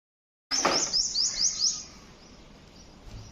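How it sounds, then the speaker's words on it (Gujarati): Sparrows chirping in a rapid burst of bright, repeated tweets close by at a rural home in the morning, then fading into quieter background ambience. "મસ્ત ચકલા ને બોલતા હોય પણ મજા આવે."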